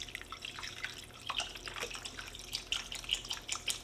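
Beef broth pours from a carton into a pot of onions as a faint, steady liquid trickle with small splashy drips, low and close, with no talking over it.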